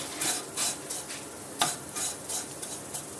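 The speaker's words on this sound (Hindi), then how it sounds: "हिलाते रहेंगे, चिपके नहीं, जले नहीं।" Semolina (rava) for vegetable upma is stirred in a pan in rhythmic repeated scrapes, over a soft continuous sizzle, with no voices.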